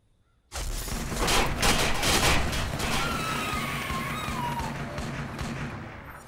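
Fireworks display in the video game Watch Dogs: an abrupt loud burst of crackling, booming explosions rolls on for several seconds, with whistling streaks rising through the rumbling din as it gradually fades.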